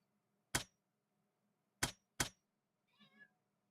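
A cat in the video game Crimson Desert gives one short meow near the end after three sharp, loud clicks, with quiet background hum between them.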